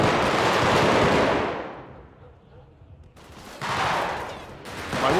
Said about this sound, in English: Where am I even getting shot from, though?